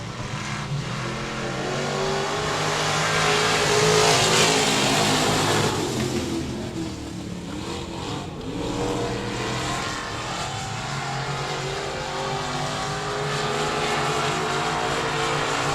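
Hobby Stock class race cars roar around the 67 Speedway oval in Texarkana, engines revving loudly in a swelling pack that peaks and recedes before a steady continuing drone of cars further off.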